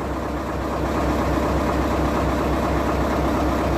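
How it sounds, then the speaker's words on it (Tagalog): A manual dump truck's 8DC11 diesel engine idles steadily, a loud, close, continuous low rumble with an even rhythmic churn throughout, with no voices over it. "Ang makina nito 8DC11 manual."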